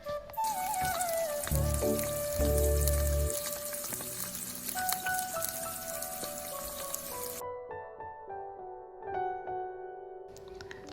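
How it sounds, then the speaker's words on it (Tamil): Potatoes for French fries bubble and sizzle in hot oil, a bright crackling fry with clattering as pieces go in, fading toward quiet near the end with scattered small pops. "இந்த சூடான எண்ணெயில் நான் எல்லா உருளைக்கிழங்கையும் போட்டு ஃப்ரை பண்ணி எடுக்க போகிறேன்."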